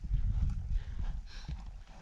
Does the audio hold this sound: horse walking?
yes